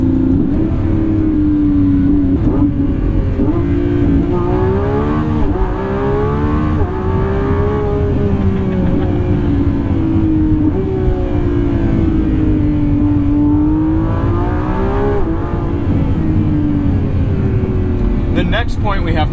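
A Lamborghini Revuelto supercar engine drones and rises and falls in pitch as it accelerates while driving, heard steadily from inside the cabin, with someone talking over it.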